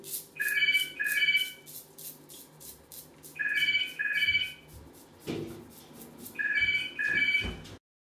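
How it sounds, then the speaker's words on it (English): A telephone rings in a repeated double-burst pattern, three pairs of bright electronic trills separated by pauses, fairly close and clear, with faint handling clatter and thumps between rings. "Phone."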